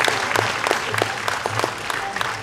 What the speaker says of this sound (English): All those who have forgotten to clap earlier, here's another opportunity.